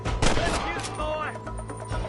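Gunfire in the Red Dead Redemption video game, a couple of sharp shots cracking out among a voice, close and punchy within a brief moment.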